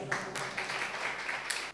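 Brief applause for the singer Palak at a singing-contest audition, a short burst of many hands clapping at moderate distance, fairly soft and continuous.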